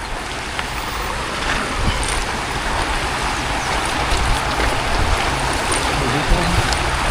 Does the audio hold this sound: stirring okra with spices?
no